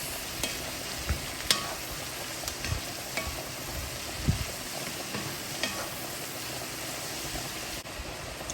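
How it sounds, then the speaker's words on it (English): Cabbage and onions fry in a pan with minced garlic, giving a soft, continuous sizzle broken by a few louder clinks and stirring bumps, close and alone without talk. "Fry up this cabbage and onions"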